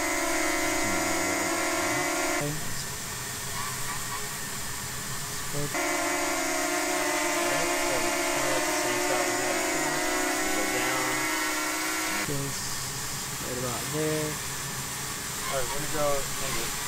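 A DJI Mini drone flying on 3D printed 8-blade propellers gives a steady, droning hum with shifting pitch as it moves, while a person talks over it.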